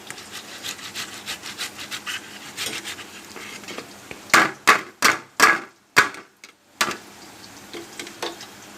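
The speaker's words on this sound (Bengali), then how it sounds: "ঘষে টমেটো দিলে খুব ভালো টেস্ট হয়, ছিবড়াগুলো পড়ে না টমেটো।" A tomato is rubbed against a grater in a kitchen, a series of rasping strokes, light and quick at first, then several louder, distinct scrapes with short pauses between them.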